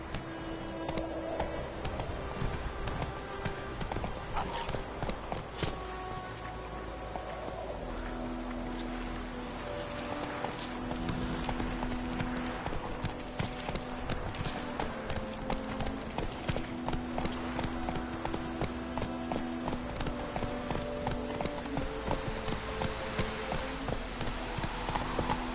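Horse hooves clip-clopping at a steady gallop in The Witcher 3 video game, a continuous rhythmic beat with faint game music and ambience behind it throughout.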